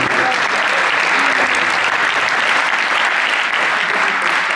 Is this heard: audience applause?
yes